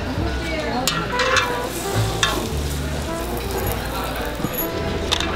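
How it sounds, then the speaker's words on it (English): Fried tteokbokki sizzles steadily while being stirred at a street food stall in Tongin Market, Seoul, with light clinks of utensils and voices in the background. "this is a fried tteokbokki right here"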